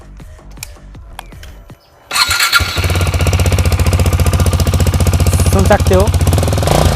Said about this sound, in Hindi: तो चलो पहले एक बार स्टॉक एग्जॉस्ट के साउंड सुन लेते हैं।